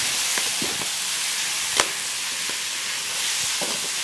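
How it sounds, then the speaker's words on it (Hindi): Food frying in a pan on a portable stove, a faint steady sizzle and hiss with a few soft stirring clicks and one sharper tap partway through, no talking. "इसको अच्छे से फ्राई कर लेंगे"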